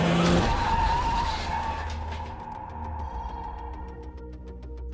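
A car skids on a road in the horror film M3GAN, tires screeching in a loud sustained squeal that slowly fades over several seconds, with a low engine rumble beneath and no talk.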